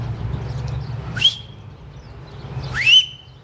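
Two short rising whistle blasts call a dog on a farm, clear and fairly close, separated by a pause over a low hum.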